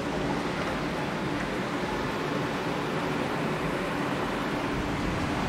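Machinery runs inside a wind turbine, giving a steady, loud, broadband mechanical roar and hum with no change in level, like a fan or engine room drone, and no voices.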